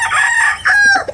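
A native chicken crows loudly and close, one drawn-out cock-a-doodle-doo with a short break partway through, then trailing off into a brief cluck.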